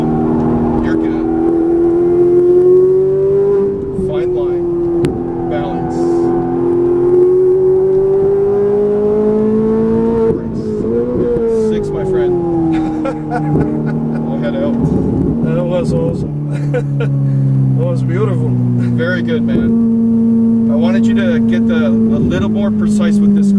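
A Ferrari 458 Italia races around a track, its engine note rising and falling through repeated throttle pushes, downshifts and gear changes, heard loud from inside the cabin. An instructor talks over it throughout.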